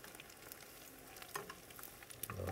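Eggs frying in a pan on a stovetop: a soft, steady sizzle and crackle with a few sharper pops, faint and close, with no talking.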